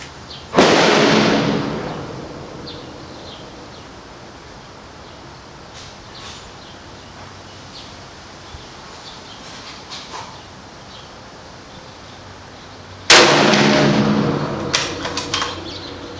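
Two loud rifle shots fired from a bench rest, about twelve seconds apart, each a sharp blast followed by a rolling outdoor echo that fades slowly, with quiet ambience between them.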